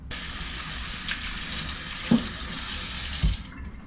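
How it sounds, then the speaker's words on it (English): Steady broadband rush of tap water running into a sink while soapy hands are rinsed, with a couple of soft knocks, continuous and close until the flow stops near the end. "the very first thing I want to do is I want to rinse off my hands"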